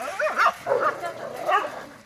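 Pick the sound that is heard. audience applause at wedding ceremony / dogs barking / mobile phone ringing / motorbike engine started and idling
dogs barking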